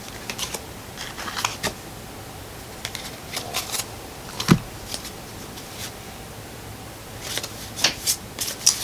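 Tarot cards shuffled by hand indoors, producing quiet intermittent riffling and flicking bursts with soft pauses between them, close and faint with no talking.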